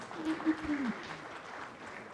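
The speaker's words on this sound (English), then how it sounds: "let's hear it up with a big round of applause" Audience applause at a healthcare technology conference session in Bengaluru fills the hall as a steady patter, with a voice speaking briefly over the first second before the clapping continues alone.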